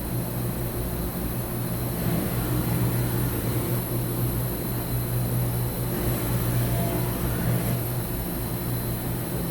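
A 2013 Mazak HCN 4000-III horizontal machining center drives its Z-axis ball screw at 25% rapids, giving a steady mechanical hum and whine with faint periodic swells as the axis travels back and forth.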